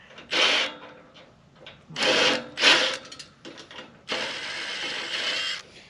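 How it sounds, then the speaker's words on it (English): Milwaukee 3/8-inch compact impact gun backing out a self-tapping screw from a gate hinge on a farm, heard as several loud, close bursts of rapid mechanical hammering, each a second or so long, with brief quiet gaps between them. "Got the 3/8 Milwaukee compact impact gun."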